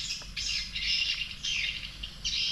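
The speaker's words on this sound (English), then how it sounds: "I've never heard such strange birds singing before." Strange birds calling near a jungle house in Songkhla, Thailand, repeated harsh squawking bursts in uneven rhythm over a low background hum, fairly close and alone without talk.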